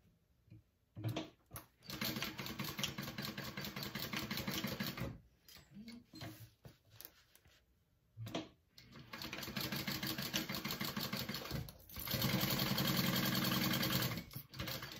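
A sewing machine stitching a crossbody wallet, with several bursts of rapid, close, rhythmic motor whirring separated by short pauses.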